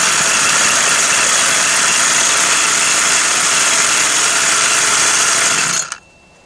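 A vintage 2002 Weed Eater 22-inch two-stroke hedge trimmer, a barn find in need of tuning, idles high with a loud, steady, buzzing drone that runs unbroken for nearly six seconds before abruptly cutting off.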